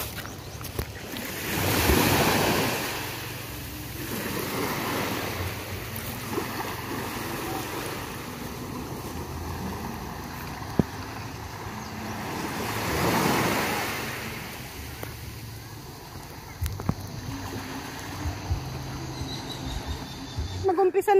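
Sea waves wash onto the shore in Marinduque, a continuous surf hiss with two larger swells building and breaking, one early and one about midway, over faint background noise.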